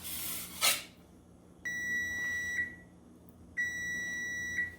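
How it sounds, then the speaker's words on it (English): A kitchen timer beeps while a beef pepperoni pizza bakes, sounding two sustained electronic tones about a second long each, separated by a pause and fairly quiet in a still room, after a brief clatter. "Our timer's going off."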